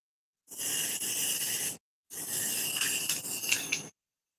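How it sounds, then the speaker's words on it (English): Two long hissing bursts of spray paint aimed onto a fedora hat, close and steady, the first lasting over a second and the second nearly two seconds, separated by a short silent gap. "I'm really going to spray closer."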